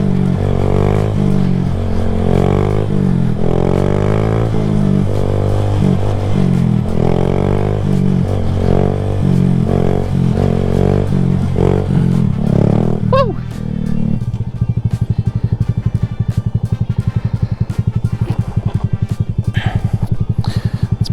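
Honda Grom motorcycle engine runs loud and steady while being ridden, with rising and falling revs in the first half and a lower, rougher engine drone toward the end.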